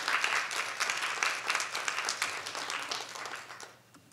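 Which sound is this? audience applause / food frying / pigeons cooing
audience applause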